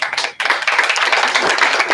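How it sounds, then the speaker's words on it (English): A crowd applauds at a company's all-India meet for a staff award, loud, dense clapping that starts sharply after a brief pause and continues steadily. "Big round of applause for her"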